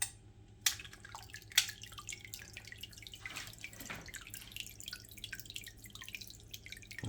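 An Eheim Biopower aquarium filter, switched on with its nozzle above the water, sends a stream splashing into the tank, a continuous close trickling and dripping with a few louder splashes near the start, no talk.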